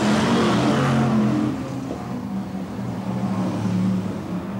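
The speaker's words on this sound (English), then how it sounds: "John Lund then really bouncing his way along that back straightaway, nearly overcooking things on turns 3 and 4" BriSCA Formula 1 stock cars racing around the oval at Kings Lynn in 1994: a steady, broad engine roar from a pack of cars that rises, then eases a little as they circulate, with no talk.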